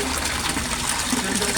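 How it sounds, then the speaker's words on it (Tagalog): Resun aerator pump bubbling water in a three-foot-deep koi pond, a steady close rushing gurgle of churning bubbles, continuous and fairly loud with a faint voice underneath. "Kahit 3 feet deep, ang lakas-lakas pa rin ng bula"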